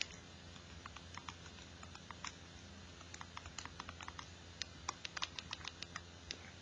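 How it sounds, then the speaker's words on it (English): Data points keyed into a graphing calculator: quick, quiet, irregular button clicks tapping in bursts over low background hiss. "Typing in all my points."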